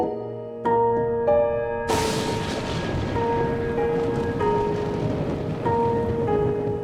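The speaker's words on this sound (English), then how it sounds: "Do you hear that thunder?" Thunder and steady rain in Deadly Premonition 2, a sudden loud rumble crashing in after quiet tonal notes, then a sustained hiss of rainfall continuing beneath lingering musical tones.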